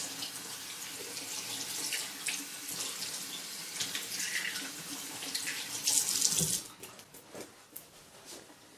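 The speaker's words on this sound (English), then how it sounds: "Finish washing my hands here" Hands are washed under a running tap, with water streaming steadily into a sink and splashing louder for a moment as the hands move through it before the flow eases.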